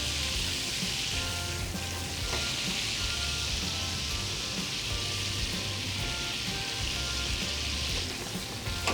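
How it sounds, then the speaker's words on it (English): Stuffed calamari fries in hot oil with a dense, continuous sizzle and crackle, loud and close, holding steady throughout with no talking. "We're gonna give a little fry in the oil"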